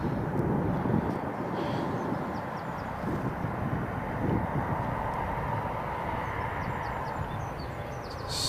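A Trade Air Fokker 100 jet taxis at Newcastle Airport, heard as a steady broadband engine roar and rumble at a moderate distance. The noise holds constant for about eight seconds with no voices.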